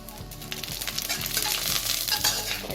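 Shahi jeera seeds crackle and sizzle in a spoonful of hot oil in a kadai, a close, lively spitting with soft stirring taps.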